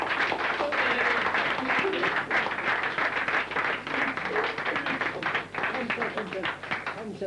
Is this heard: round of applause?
yes